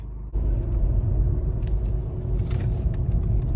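A car driving on a road, heard from inside the cabin as a steady low rumble of engine and tyre noise that starts abruptly and continues evenly, with faint rattles on top.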